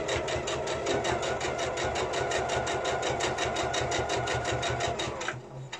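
A sewing machine topstitching a fabric mask pouch chatters in a fast, even rhythm of needle strokes, close and steady, then slows and stops near the end.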